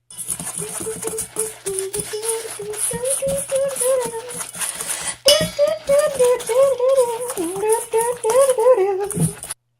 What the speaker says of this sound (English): And so now we whisk these ingredients together.